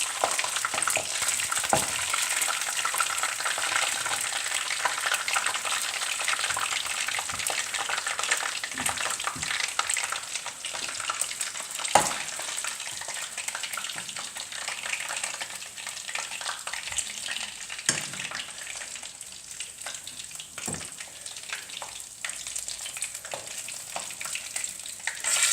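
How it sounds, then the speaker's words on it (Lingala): Fish frying in a pan for a Congolese dish gives a steady, dense sizzle with a few sharp crackles and pops scattered through it. It holds at a constant close level the whole time, with no voices. "Mbisi yango ekalingami."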